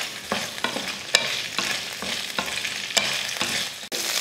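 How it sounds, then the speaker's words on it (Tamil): Okra sautés in oil in a kadai, with a steady sizzle under a series of sharp, regular spatula scrapes and clacks against the metal, close and clear with no speech. "வெண்டைக்காயை வதக்கி எடுத்துக்கலாம்."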